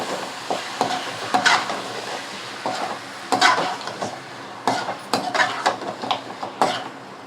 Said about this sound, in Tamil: வாங்க இந்த கறியை நல்லா கிளறி விட்டுக்கலாம்